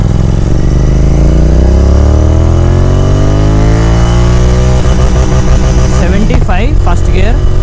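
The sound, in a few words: tuned Royal Enfield GT 650 motorcycle engine revving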